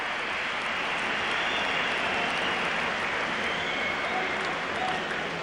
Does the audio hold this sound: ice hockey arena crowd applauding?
yes